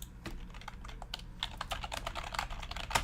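Rapid, irregular key clicks from typing on a computer keyboard, steady and fairly close over a low background hum, with a louder cluster of strokes near the end.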